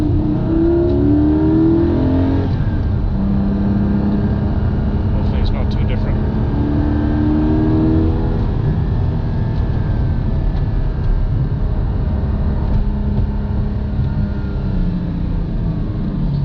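A GT4 sports car engine drones steadily with a loud intake roar while driving, and a person speaks briefly over it.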